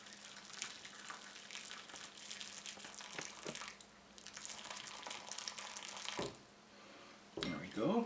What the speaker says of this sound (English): I've got my strainer here. I want to strain that into the bowl.